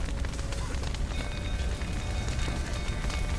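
Dense hiss of rain in The Witcher 3: Wild Hunt, a loud, even patter over low rumble, continuous for a few seconds with no talk.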